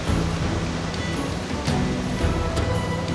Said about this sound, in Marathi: आता धरणाचं पाणी सोडलेलं आहे त्यांनी, त्या डॅमचं